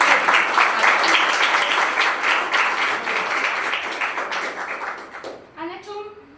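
Applause from an audience at a panel talk on improvisation in the performing arts, dense clapping that tapers off toward the end before a voice begins speaking.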